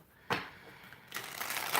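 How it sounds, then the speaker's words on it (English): Tarot cards shuffled close by during a live reading: a sharp riffle at the start, then a longer run of dense papery rustling and flicking that grows louder toward the end, with no voices. "So I was trying to shuffle on camera"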